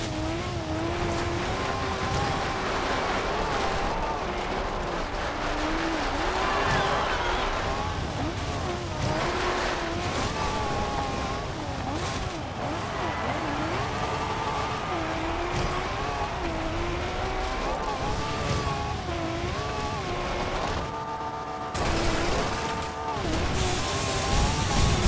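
A 2010 Lamborghini Murciélago LP 670-4 SV engine roars steadily while driving off-road in Forza Horizon, with shifting revs, tire squeal and skidding, occasional impacts, and no talk over it.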